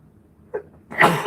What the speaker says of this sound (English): Hold on, I feel like sneezing.